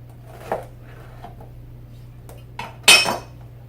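A knife slicing through a pineapple on a cutting board gives a few soft scraping cuts, then one sharp louder chop with a clack near the end, close and otherwise quiet.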